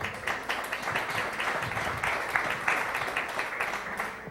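Steady audience applause at a roast-style political event in Mexico, a dense continuous wash of many hands clapping at moderate volume, with no talk over it.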